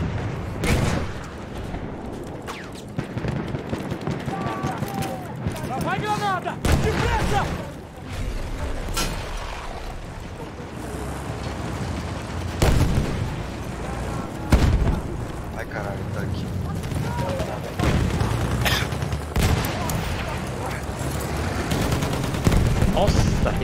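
A sniper shootout in a video game produces repeated loud gunshots and booming bursts with some rapid strings of fire, interspersed with excited talk and game noise across the whole stretch.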